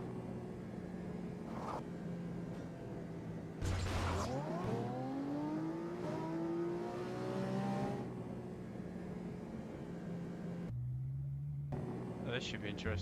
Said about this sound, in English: the engine noise is pretty spot on as well